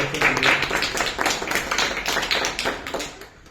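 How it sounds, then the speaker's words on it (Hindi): An audience applauds a student who won a karate bronze medal at a school class event. The clapping is dense, steady and fairly loud for over three seconds, then thins out at the end. "एक बार जोरदार तालियां"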